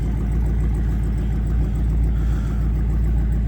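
A car idles with a worn muffler, putting out a loud, deep, rough drone with a steady low pulsing throb that holds the whole time, with no voices over it.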